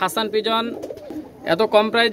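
Pigeons cooing up close, repeated throaty rolling coos in two bursts with a short pause between them.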